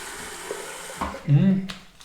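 Warm water runs from a tap into a sink as a face is splashed and rinsed during a traditional wet shave, a steady near hiss with a louder splashing burst in the second half.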